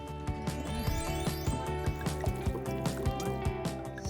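Water poured into a homemade sensory bottle already holding sprinkles, a steady gurgling fill with trickles and drips, close and continuous for several seconds.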